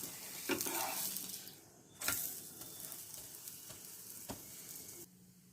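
Food shallow-frying in oil and ghee gives a steady close sizzle, with a few sharp clicks and scrapes of a utensil against the pan. The hiss softens toward the end, and no one speaks.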